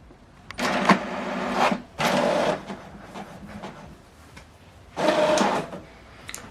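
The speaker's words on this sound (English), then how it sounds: "Okay, now we are printing on both sides." An HP Deskjet 2820e all-in-one printer runs a double-sided print job, giving off three distinct bursts of mechanical whirring and feeding noise, each about a second long, with quiet gaps between them.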